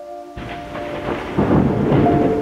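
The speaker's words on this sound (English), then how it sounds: "Sound of rain pouring on the roofs, leaves and trees." Steady rain with a deep rumble of thunder building underneath, growing louder toward the end; no voices.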